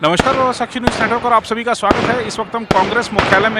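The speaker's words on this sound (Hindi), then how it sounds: "आप सुन सकते हैं यहाँ पर आतिशबाजी हो रही है" Fireworks go off at a Congress party headquarters celebration: sharp, loud cracks and pops repeat irregularly in a steady string, heard beneath a reporter talking.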